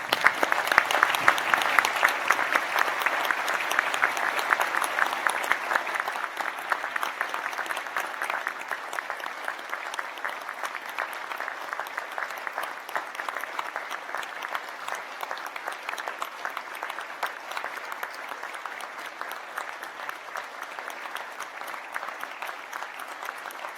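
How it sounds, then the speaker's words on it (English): A seated audience at a December 2019 University of Newcastle graduation ceremony in Australia applauds its graduates with dense, sustained clapping that starts strongest and then settles into a long, even patter. "invite the audience and my colleagues up here to stand and join me in applauding the wonderful"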